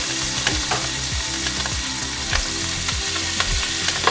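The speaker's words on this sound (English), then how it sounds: "So now you want to take 2 tablespoons of unsalted butter. Put that in there." Unsalted butter sizzles in a hot pan alongside pork medallions, a loud, steady frying crackle running close and continuous, with rhythmic scraping stirs against the pan bottom and no talk.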